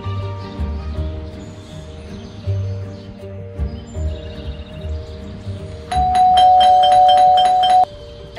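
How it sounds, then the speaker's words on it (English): A doorbell in the Scary Teacher 3D video game rings loudly with a rapid, repeating electronic chime for about two seconds over a quiet game background. "There goes that stupid bell again."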